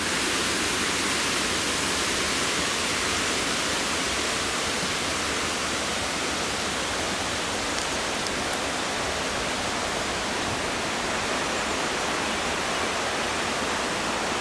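A river near Ynysawdre, swollen after high water, rushes in a steady, loud broadband roar that stays constant and close throughout, with no voices over it.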